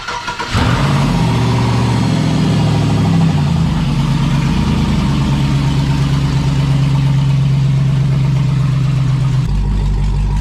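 A V8-swapped Jeep Comanche cranks briefly and fires up, then settles into a loud, steady, rumbling idle close by that holds for several seconds before the tone shifts near the end.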